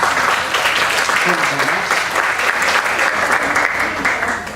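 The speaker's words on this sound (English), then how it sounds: "Let's receive him with big and warm applause." An audience at a morning teachers' training conference applauds to welcome a speaker, steady dense clapping that fills the room at full loudness throughout, only easing slightly at the very end.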